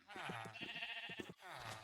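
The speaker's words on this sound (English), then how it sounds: "Next, I'm going to breed all these sheep." Sheep in the Minecraft video game bleat in a few wavering, nasal calls, close and fairly loud, with a brief pause before a final bleat.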